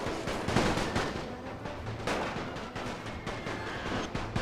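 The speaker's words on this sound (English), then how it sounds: "a lot of the artillery shots are ending up blasting in the treetops instead" Artillery shells bursting in a thick forest battlefield in The Great War 6.0, many hitting treetops, as a dense, continuous barrage of rumbling blasts and crackling gunfire with repeated sharp impacts throughout.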